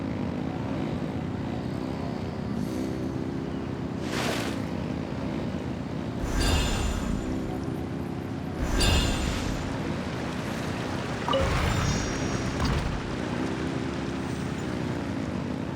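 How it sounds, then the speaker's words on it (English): Boat engines revving in Genshin Impact, a steady droning motor hum with several louder surging swells and splashy bursts rising over it. "Let's ride! Rev the engines!"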